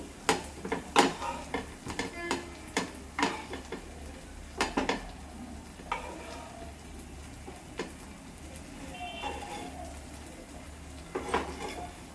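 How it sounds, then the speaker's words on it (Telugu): Food frying in a pan in a home kitchen, turned over on both sides. Repeated clinks and scrapes of a utensil against the pan ring out over a faint sizzle, with irregular spaced knocks throughout. "ఈ విధంగా ఫ్రై చేసుకోవాలండి. రెండు వైపులా తిప్పుకోవాలి."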